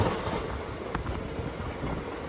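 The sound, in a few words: train arriving at Tirur railway station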